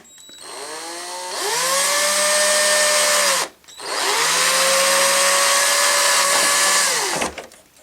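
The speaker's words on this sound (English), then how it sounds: "I'm going to drill out a little bit of this plastic here" Power drill boring out plastic on a vintage Star Wars Millennium Falcon toy, two long steady whining bursts of several seconds each with a short pause between, close and loud.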